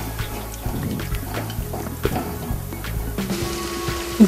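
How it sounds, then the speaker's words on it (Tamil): Water poured into a pan of simmering dry fish gravy (ney meen karuvadu thokku), giving soft liquid splashing and bubbling with a few clinks, close and moderately loud, with no talk. "இப்போ தேவையான அளவு 1/4 டம்ளர் தண்ணி ஊற்றிக்கோங்க"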